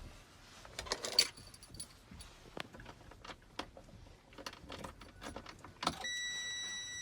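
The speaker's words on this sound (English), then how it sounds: "So we turn our key on." Keys jangle and click as an ignition key is turned in a truck cab during a CDL pre-trip inspection, followed by a series of small clicks and a steady electronic dashboard chime that comes on and holds.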